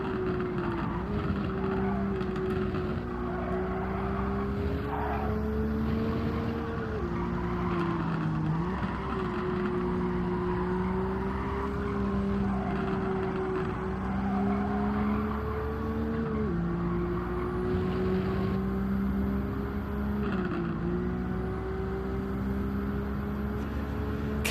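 A Nissan GT-R race car in Gran Turismo 7 drones steadily at close range, its engine pitch climbing through long pulls, dropping sharply at two shift or braking points and climbing again, with no talk over it.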